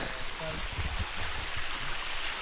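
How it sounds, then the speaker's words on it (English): A waterfall beside a mountain road on the Gorodi Pass in northern Malawi, heard as a constant broadband rushing roar, fairly loud and steady throughout, with a faint voice briefly audible underneath. "And then there's another waterfall here, which you can see come down here."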